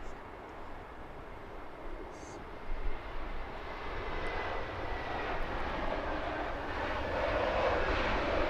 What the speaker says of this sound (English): the dark Dreamliner as Benji likes to call it